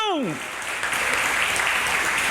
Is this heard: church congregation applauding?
yes